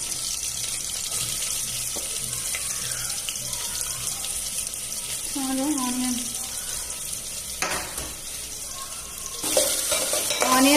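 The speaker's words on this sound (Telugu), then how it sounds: "సో ఆనియన్ అయితే వేసుకుంటున్నా." Onions dropped into hot oil for a Sunday mutton curry fry with a steady broadband sizzle, punctuated by scraping stirs and a few clinks, close and fairly loud, with no talk over it.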